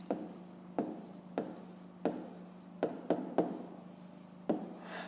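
Pen strokes scratch across paper in short repeated bursts about every second, close and fairly quiet, while solving a fifth-grade math exercise, with a steady low hum beneath and no talking.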